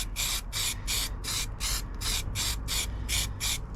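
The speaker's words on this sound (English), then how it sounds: "So final coat of paint on this corner." Final coat of spray paint going onto a corner of a Rover 75 body, with a close, steady hiss that swells and fades in even, rhythmic pulses, about ten passes in quick succession.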